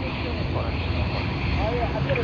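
A QantasLink aircraft passes at Sydney Airport with a steady, broad engine roar that holds throughout, and faint voices sit underneath.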